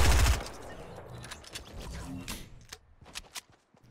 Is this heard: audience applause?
no